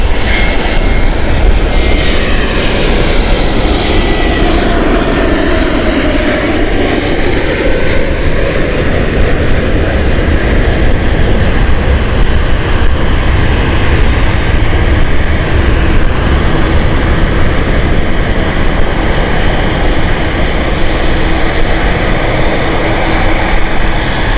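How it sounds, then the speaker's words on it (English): An Air Transat Airbus A321neo inbound from Quebec arrives at Gatwick Airport with a loud, continuous jet roar. Whining engine tones shift and sweep across it, and no one speaks. "Okay, here's Air Transat. Inbound from Quebec. Airbus A321neo."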